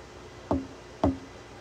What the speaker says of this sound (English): you hear a knock